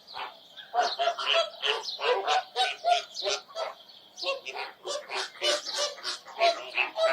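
A flock of birds at Thol Lake bird sanctuary, a man-made lake in Gujarat ringed by tall trees with an island in the middle, fills the air with a dense, continuous chorus of overlapping goose-like honks and calls, loud and close, with no talking.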